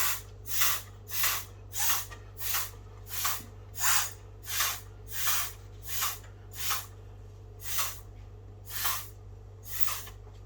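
Spray paint is misted onto calligraphy paper in steady repeated bursts, about fifteen short hissing puffs in an even rhythm, close and fairly quiet over a low background hum, with no talking.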